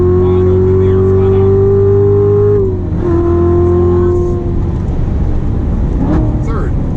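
A Corvette engine howls at wide open throttle on a race track, a loud, steady high-revving drone that briefly dips at an upshift before pulling hard again. An instructor talks over the engine.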